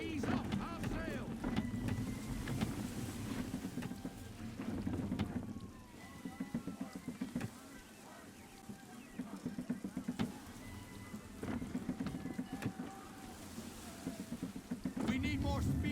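Strong gusting wind on a sailing ship at sea in Assassin's Creed III, with creaking, rushing water and wind buffeting throughout, and voices calling out over it.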